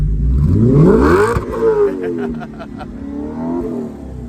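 A salvaged Audi RS5 fitted with an AWE track exhaust revs loudly up and down, its aggressive engine note rising and falling close by, with a person talking briefly over it.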